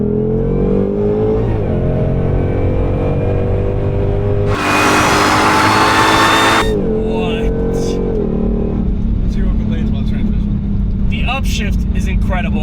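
A 2020s S550 Shelby GT500 with a dual clutch transmission accelerating hard, loud engine roar climbing in pitch with a sudden upshift and a burst of intake noise, heard from inside the car with someone talking over it.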